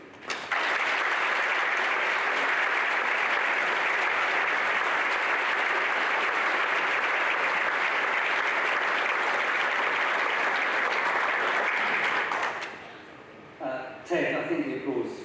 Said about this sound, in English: Ted, I think the applause says it all.